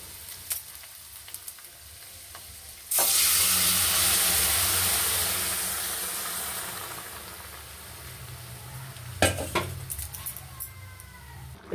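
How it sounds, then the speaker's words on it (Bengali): Chana dal poured into a hot pan of mixed vegetables bursts into a loud, steady sizzle that slowly fades, followed by a few utensil clatters near the end. "এবার আমি ডালটাকে এবার ঢেলে দেবো"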